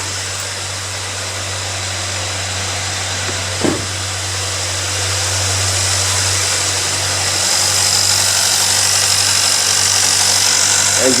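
Car engine idling steadily after an oil leak repair near the valve cover, a continuous close low hum and whir with one small knock early on and a slight rise in level partway through.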